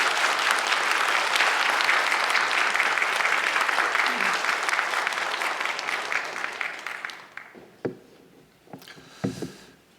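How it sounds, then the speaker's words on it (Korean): Church congregation applauding loudly to welcome a visiting pastor at a Friday evening service, a dense steady clapping that fades out over several seconds, leaving a few scattered claps and light knocks at the end. "큰 박수로 목사님 환영하겠습니다."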